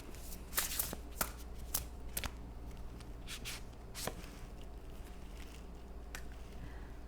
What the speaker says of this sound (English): I'm going to pull an oracle card now